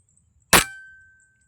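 A single loud rifle shot with a metallic clang from the bullet hitting a steel target, ringing on as a fading tone in otherwise quiet surroundings.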